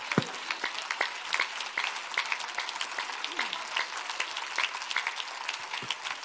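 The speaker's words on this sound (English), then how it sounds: "Why don't you clap your hands to the Lord?" Church congregation clapping hands together during a worship service, a steady crowd of claps with dense, lively rhythm, some voices faintly mixed in beneath.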